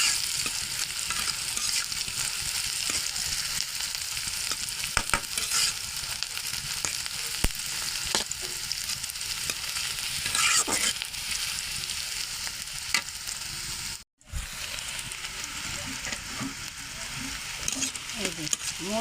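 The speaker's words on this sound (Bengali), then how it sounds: "এই যে মরিচ, পেঁয়াজ, রসুন সব ভাজা ভাজা হয়ে গেলে লাল লাল, হালকা লাল কালার হয়ে গেছে" Chili paste, onion and garlic frying in a pan, a steady bright sizzle with occasional stirring scrapes, close and continuous, briefly cut off before resuming.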